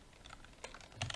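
Computer keyboard keys tapped while entering Discord.js bot code, a few soft clicks then a quicker cluster of keystrokes near the end, close and fairly quiet with no talking.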